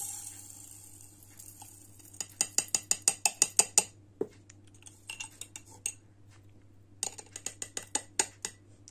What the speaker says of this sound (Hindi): शुगर को मैं सबसे पहले इस कप में डाल देता हूँ